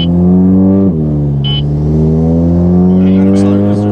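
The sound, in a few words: Audi with DSG tune accelerating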